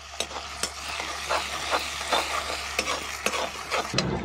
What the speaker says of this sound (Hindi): तेल गर्म हो गया है, अब जो मैंने लहसुन अदरक कूट रखा था सबसे पहले हम इसको डाल देंगे